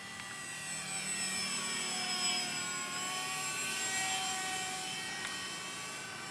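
Small beginner three-channel RC model airplane flying overhead, a steady buzzing electric motor whine with shifting tones, continuous for several seconds at moderate distance over light outdoor background.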